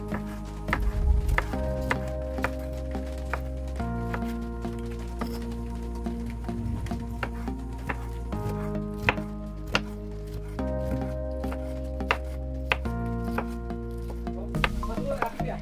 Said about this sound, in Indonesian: Kemudian saya mau iris-iris juga jamur kupingnya